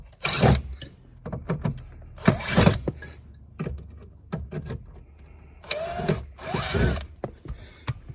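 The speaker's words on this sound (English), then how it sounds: "there's 3 Phillips number 2 screws here, which I'll just take off with a power tool" Several short bursts of a power driver whirring out Phillips screws from a 1999 Dodge Dakota dashboard, each lasting under a second, with pauses and faint handling clatter between them, close by.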